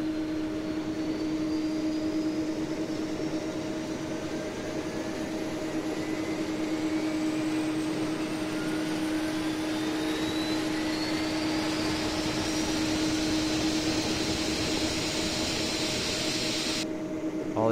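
Flight-simulator jet engine 3 spooling up at start: several turbine whines slowly rise in pitch over a steady drone and hum, sustained and fairly loud.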